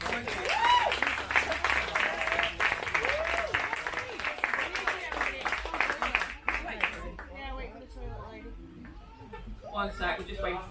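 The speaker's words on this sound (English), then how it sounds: "we can have a round of applause for our first speech" Wedding guests applaud in a dense, steady round of clapping that carries for several seconds before thinning out, with voices mixed in and a few scattered claps near the end.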